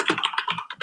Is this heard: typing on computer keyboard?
yes